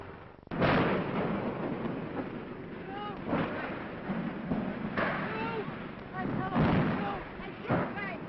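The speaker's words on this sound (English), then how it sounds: "you are about to see the pictures he got when the ship exploded" Archival 1937 newsreel audio of the Hindenburg airship exploding and burning, with a sudden loud blast followed by rumbling roars and thuds under a narrator's voice, all heard through a thin, band-limited old recording.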